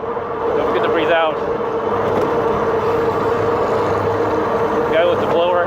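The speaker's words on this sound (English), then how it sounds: "Guy with the blower." Leaf blower run by a man, passed from an electric fat-tire bike, a steady loud roaring drone under constant wind rush, with someone speaking over it.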